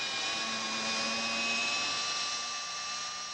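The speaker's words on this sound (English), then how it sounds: "The drill had absolutely no effect." Steady high-pitched whine of a power drill running against a car tire, loud and close for a few seconds, holding a constant tone before easing slightly, with no voices.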